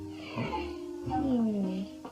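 A cartoon cat gives a drawn-out, wavering meow-like yowl that slides downward, loud and close, followed by a brief extra sound at the end.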